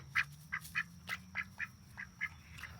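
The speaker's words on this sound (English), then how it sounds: "If you hear quacking in the background," Several ducks trapped in a garden net quack repeatedly in short, fairly clear calls at a steady rhythm, set against a low outdoor rumble.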